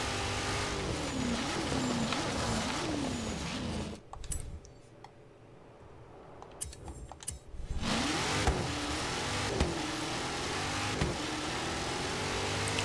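Cars in the racing game Forza Horizon 3 roar with engine notes that rise and fall as they shift and slide, dropping to a quieter stretch midway before the revving returns.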